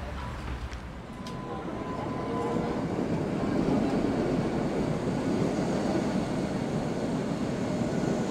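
An old tram in Budapest rumbles past at moderate distance, a broad low roar building after a couple of seconds and holding steady.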